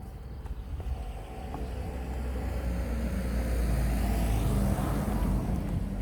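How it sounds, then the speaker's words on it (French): A car approaches and passes on a road along a pilgrimage walking route, its engine and tyre roar swelling steadily from faint to loud and close over several seconds. "une voiture qui passe"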